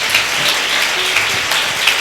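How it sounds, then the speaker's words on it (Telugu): A church congregation claps loudly together, a sustained wash of many hands in a large room, steady and close. "గట్టిగా కొట్టండి అందరూ కలిసి."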